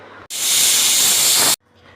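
A pressure cooker full of chopped vegetables for pav bhaji vents steam in one loud, steady hiss lasting just over a second, starting and stopping abruptly against a quiet background.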